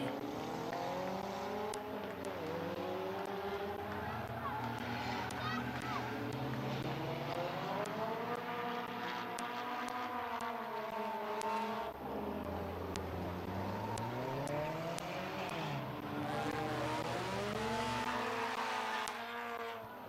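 Race cars at Midvale Speedway on a night of destruction, engines rising and falling in pitch as cars pass near and away, loud and continuous, with occasional sharp clicks and tire noise, talk faintly underneath.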